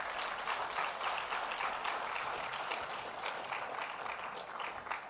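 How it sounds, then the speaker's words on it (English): Audience applause at a trade fair event in Lagos, Nigeria: steady, dense clapping from a large crowd, fairly close and sustained for the whole stretch with no talking over it. "Let's give Baba a big round of applause again"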